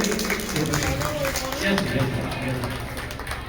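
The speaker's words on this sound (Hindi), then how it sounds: "एक बार जोरदार ताली साउंड वाले भैया के लिए।" An audience claps loudly for the sound system operator at a Shrimad Bhagavat Mahapuran religious gathering, steady crowd applause running throughout with voices mixed in.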